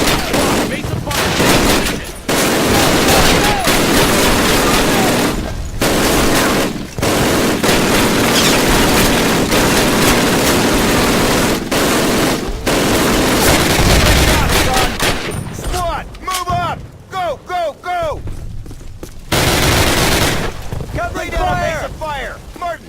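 Heavy Call of Duty battlefield gunfire on the Dawnville training-camp level, with loud rapid machine-gun bursts and rifle shots hammering almost continuously and shouted voices breaking through near the end.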